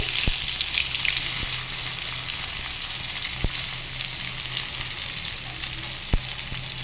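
Slices of bitter gourd (karela) fry in a pan of hot oil, a steady bright sizzle with a few sharp clicks of a utensil against the pan, close and without talking.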